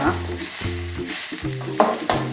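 Cabbage sizzles and crackles in a hot pan, with stirring scrapes and a couple of sharper clatters of a utensil.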